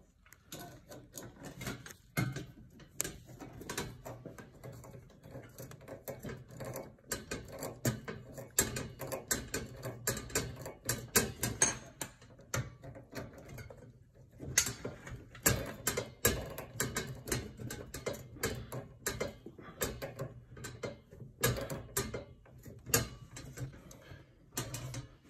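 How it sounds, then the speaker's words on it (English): Screws are being driven back in to fasten igniters onto a Bosch cooktop, giving a steady run of small clicking, ratcheting mechanical ticks close by, with dense irregular taps and no talking. "So we'll get the screws here, tighten the screws, and we should be done. So now we tighten the igniters back to the stove."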